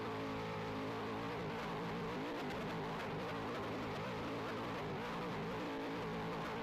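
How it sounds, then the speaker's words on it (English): Dodge stock car engines screaming at high RPM in a racing video game at Las Vegas, a dense continuous multi-car roar with layered whining tones and no letup. "Something might be off with the Dodges, because they sound much higher RPM."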